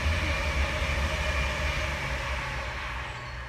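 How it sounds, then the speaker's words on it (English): A train rolls past nearby with a steady, heavy rumble and a faint high metallic whine from the wheels, holding strong before easing slightly toward the end, with no talking. "There goes a train."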